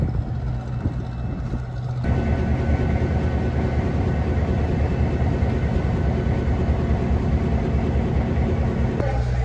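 Steady low rumble of an idling train engine, constant and close, with a faint shift in tone a couple of seconds in; no clear talk.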